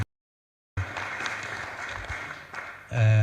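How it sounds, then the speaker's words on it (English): Audience applause at a political rally in Kenya, a dense steady patter of clapping that starts abruptly after a moment of silence and carries on, with a voice speaking briefly at the end. "I think we should give her a clap"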